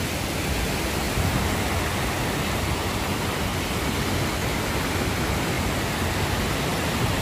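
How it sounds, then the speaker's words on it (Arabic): Waterfall in Scotland, a steady, loud, broadband roar of falling water that fills the whole stretch without pause. "شوفوا هون المي الشلال هنا، شوفوا منين جاي الشلال."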